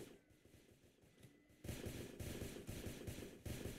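Rapid automatic gunfire from a video game gun, quiet at first and then loud and continuous, with dense repeated bursts of shots.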